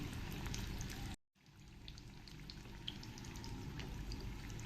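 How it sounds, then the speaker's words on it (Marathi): Veg spring rolls dropped into hot oil and deep-frying over a medium flame, giving a steady close hiss and crackle with a brief break near the start before the sizzle resumes. "मी आता हे सोडते आणि मोठ्या गॅसवर नाही थोडंसं मीडियम गॅसवर तळायचे आहेत आपल्याला हे"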